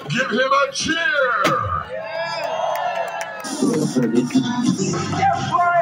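A crowd cheers and whoops for Bumblebee from the Transformers at a live event, a lively roar of voices, with someone shouting over the cheering.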